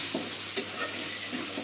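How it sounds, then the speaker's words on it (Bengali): Prawns fry in a pan for bhuna, a steady loud sizzle broken by scraping stirs from a utensil. "ওটা হলো চিংড়ি মাছ ভুনা করছি।"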